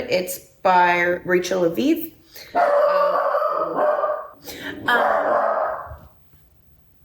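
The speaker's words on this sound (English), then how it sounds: "That's my dog." A dog barks a few times close by, sharp yelps in the opening seconds, while someone talks continuously through and after them.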